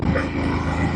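A dog barks nearby along a mountain road during an early morning motorcycle ride, a short steady burst of barking or growling over constant engine and road noise.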